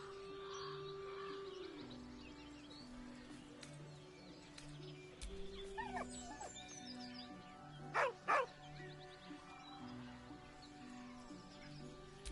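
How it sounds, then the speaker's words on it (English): A dog in the video game Baldur's Gate gives soft whines and two brief yelps over a quiet game soundscape with low background music, faint and close. "With a deep, heartbroken whine, the dog bows his head."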